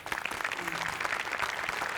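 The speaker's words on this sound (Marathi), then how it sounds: "दोघांसाठी टाळ्या." A studio audience at a Marathi comedy show claps for two performers, a dense, steady round of applause that fills the whole moment at even loudness, with faint crowd murmur underneath.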